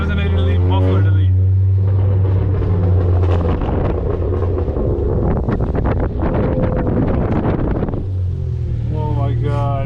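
A 2019 Honda Accord Sport 1.5T with a catless downpipe, resonator delete and muffler delete roars loudly while driving, with crackling bursts over heavy wind buffeting and a voice at the start and end.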